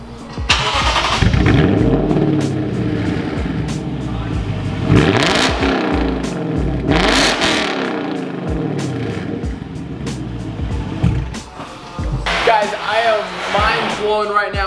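A Lexus with a 5.0 engine and a GTHaus MeisterShaft aftermarket exhaust revs repeatedly, rising and falling in loud, close bursts. Someone talks over parts of it.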